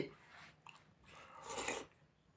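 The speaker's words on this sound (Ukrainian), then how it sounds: "І не сьорбай так сильно." A person eating noisily at home, with wet slurping and chewing sounds in two bursts, the second longer and louder, close to the mic but low in level.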